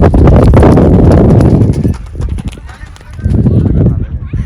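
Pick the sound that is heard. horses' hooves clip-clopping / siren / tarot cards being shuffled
horses' hooves clip-clopping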